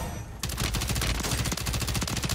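A Bal-27 assault rifle in Warzone fires a long, rapid automatic burst, loud and close, with dense evenly spaced shots that seem to quicken slightly as it goes, following a brief quiet lead-in.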